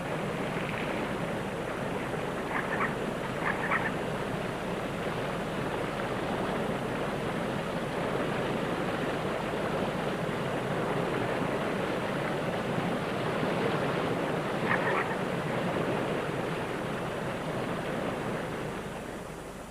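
Steady rushing of a mountain stream flowing into a lake, a continuous broad roar without pauses, with faint bird calls occasionally breaking through.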